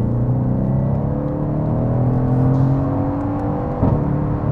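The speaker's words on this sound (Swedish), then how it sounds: "jag har ju saknat V8-ljudet" A V8 car engine drones steadily at close range through its run, with rising harmonic lines marking acceleration and a brief rougher burst near the end; no speech.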